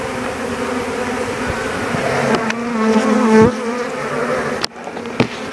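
Honey bees buzzing loudly and steadily close up during a beehive inspection, a dense droning hum with a few clicks and knocks as the frames are handled.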